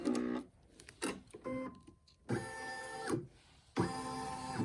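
A Brother PE800 or NQ1700e embroidery machine stitches around a treat bag, giving rapid whirring mechanical bursts with rising and falling motor tones, separated by short pauses, close and clear.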